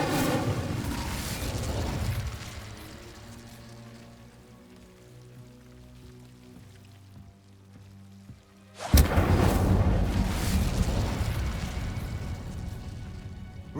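An Incendio fire spell goes off in Hogwarts Legacy, a sudden loud whooshing blast of flame that roars and crackles after a quieter stretch, with another fiery burst fading out at the start.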